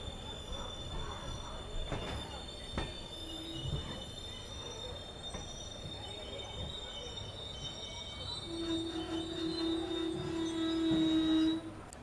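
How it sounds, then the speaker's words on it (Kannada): The Murudeshwar Express pulls into platform 1 at Murudeshwar railway station, its wheels giving off a sustained high metallic squeal that swells near the end over a low rumble of rolling stock, with no voices. "ಮುರುಡೇಶ್ವರ ಎಕ್ಸ್ಪ್ರೆಸ್ ಪ್ಲಾಟ್ಫಾರ್ಮ್ ಸಂಖ್ಯೆ 1ರಲ್ಲಿ ಬಂದಿದೆ"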